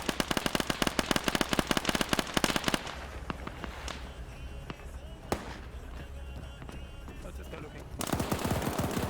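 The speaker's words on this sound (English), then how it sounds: "Machine guns, man." Rapid bursts of machine gun fire from the video game Arma 3, a dense rattling volley for the first few seconds, then scattered single shots and distant bangs over a rumbling battlefield before another loud burst near the end.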